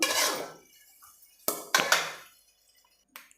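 A fried egg is lifted from a pan onto a plate, giving a few sharp metallic scrapes and clinks of utensil on pan and plate, separated by short quiet gaps, close and alone.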